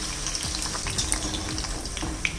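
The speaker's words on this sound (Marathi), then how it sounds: "तर अशा सारख्या थोड्या पलटी करून चांगल्या खरपूस अशा फ्राय करून घ्यायच्या" Crispy wheat-flour masala puris deep-fry in hot oil over a low flame, giving a continuous close bubbling crackle with small pops throughout.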